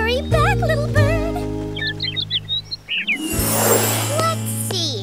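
Cartoon bird chirping as it flies off, a quick run of bright, fluttering tweets in the middle of the clip over a sustained music bed, with a child-like voice speaking briefly before it.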